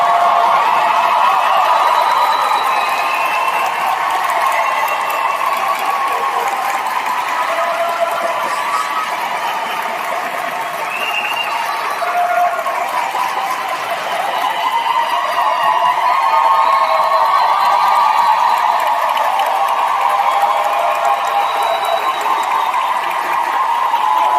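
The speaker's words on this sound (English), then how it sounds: "Can we all give a rousing round of applause for our class of 2023?" A crowd at a Pfeiffer University graduation ceremony gives long, rousing applause for the class of 2023, a dense, loud, even wash of clapping and cheering that keeps up without a break.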